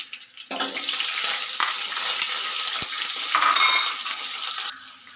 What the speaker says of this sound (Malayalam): 2 വലിയ സവാള ഇതേപോലെ കഷ്ണമായിട്ട് അരിഞ്ഞതാണ്, അത് ഇട്ട് കൊടുക്കാം ഇതിലോട്ട്.